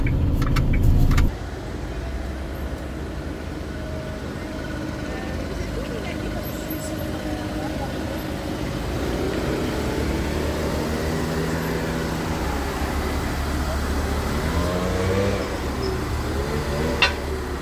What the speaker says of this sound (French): Nous sommes arrivés, on va pouvoir se garer